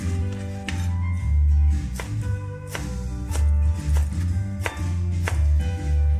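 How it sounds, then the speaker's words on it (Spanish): A knife chopping food, likely spinach, on a board: steady, close, evenly spaced cuts sounding repeatedly over a low constant hum, with no voices. "así lo voy a cortar los dos cachos"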